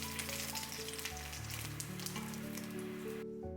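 Tofu pieces pan-fry in oil to a light golden surface, giving a dense, steady sizzle and crackle close by, with a soft music bed underneath and no talking.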